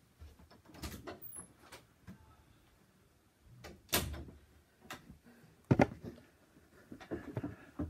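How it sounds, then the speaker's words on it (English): A cat scratches and paws at a door indoors, with irregular soft scrapes, taps and light thumps, faint and intermittent with quiet gaps. "My cat's scratching at the door again"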